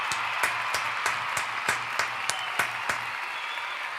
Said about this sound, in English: Another round of applause, man.